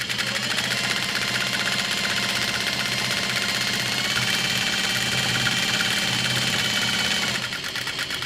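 Sewing machine stitching around all four sides of a handmade bag at a long stitch length, a steady close whirring hum running without pause for several seconds, then easing off at the end, with no voices.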